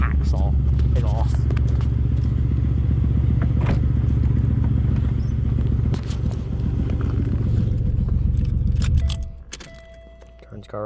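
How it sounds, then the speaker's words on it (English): A GM car with its muffler hacksawed off idles loud and rough, a dense steady engine rumble holding for about nine seconds before cutting off abruptly, with a voice heard over it. "I have muffler deleted this, by the way. Now it sounds sick."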